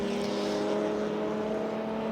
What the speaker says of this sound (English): That's Malcolm Paul now in the number 11 Lotus 11.